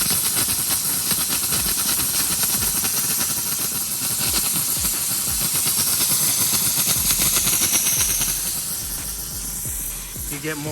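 A steam cleaner on its extra-steam setting hisses strongly and steadily for several seconds, then eases off slightly near the end.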